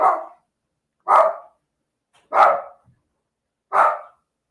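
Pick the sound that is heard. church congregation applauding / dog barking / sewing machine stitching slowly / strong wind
dog barking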